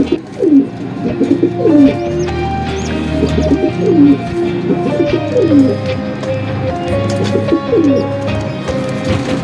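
Pigeons coo repeatedly while baby pigeons are fed, the rhythmic close cooing phrases recurring every couple of seconds over a steady background of other birds and faint chirps.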